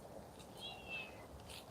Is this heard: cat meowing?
yes